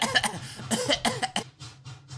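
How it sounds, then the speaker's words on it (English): A cartoon steam engine coughs violently in a rapid, uneven series of harsh bursts, then quieter fading puffs as the fit dies down, heard close with no talk. "Black smoke started to pour from his funnel, and he started coughing violently."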